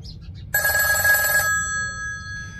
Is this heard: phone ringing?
yes